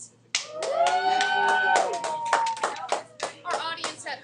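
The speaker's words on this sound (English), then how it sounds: "Round of applause for 2 more examples." Students in an algebra classroom clap for a few seconds, a short round of hand claps mixed with children's voices talking and calling out over it.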